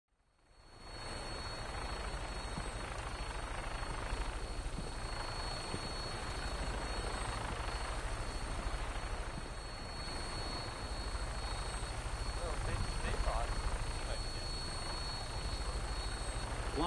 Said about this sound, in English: Flying around in a 200-year-old aircraft?